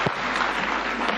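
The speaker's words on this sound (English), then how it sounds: "Another round of applause for His Excellency." Audience applause for Kenya's President Ruto at a performance-contract signing ceremony for cabinet secretaries, a dense steady wash of clapping filling the brief moment without talk.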